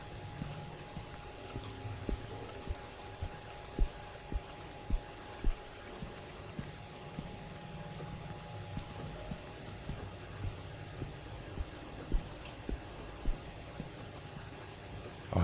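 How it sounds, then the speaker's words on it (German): Footsteps in the horror video game Song of Horror: a steady, rhythmic series of soft, close footfalls over a low, murky ambient drone, with no talking. "Ich habe Schritte gehört."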